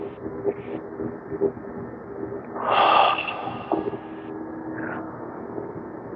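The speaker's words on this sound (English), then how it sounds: "Sink, then rise, breathe in." A deep, audible breath drawn in during a tai chi for arthritis class, one rushing inhale swelling at mid-clip over a faint background hum, with softer breathing sounds around it.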